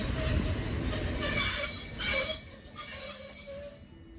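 An IC Niemcewicz intercity train pulling into a station for Terespol, its wheels squealing loudly and steadily with metallic screeches that fade as it slows, with no talk.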